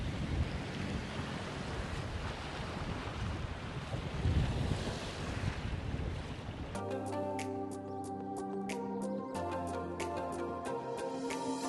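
Surf washing onto a beach with steady wind buffeting the microphone for several seconds, then cut off abruptly by unrelated tonal sound.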